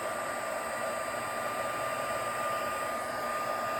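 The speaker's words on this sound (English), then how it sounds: "Now I'm going to get the heat tool." An embossing heat tool blows hot air in a steady, continuous whooshing hum, unbroken and fairly close throughout.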